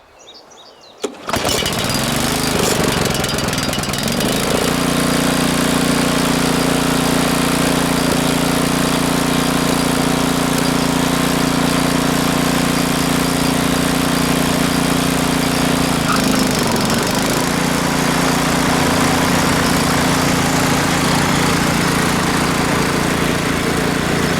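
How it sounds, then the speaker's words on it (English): A four-wheeler towing a pull-behind mower across a clover food plot starts with a sharp catch, then holds a loud, steady engine drone with a brief dip in pitch partway through, running continuously without talk. "just using the four-wheeler and my pull-behind mower today"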